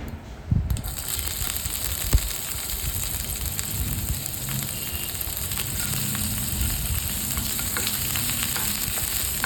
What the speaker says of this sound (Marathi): इथे आपण टाकणार आहे एक चमचाभर तूप त्यामध्ये मी टाकलेलं आहे जिरं आणि हिरवी मिरची